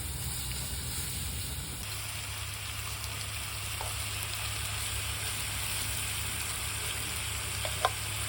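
Food stir-frying in oil in a pan, a steady soft sizzle and crackle with faint scraping, continuous and fairly quiet throughout, with no talking.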